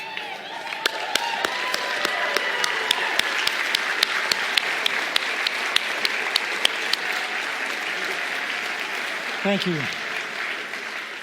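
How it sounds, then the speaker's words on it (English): A conference audience gives a standing ovation: dense, sustained applause fills the room, with a few sharper nearby claps standing out. Near the end a voice briefly speaks over the fading clapping. "stand and applaud them."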